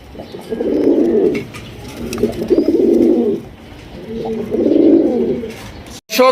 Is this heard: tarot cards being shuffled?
no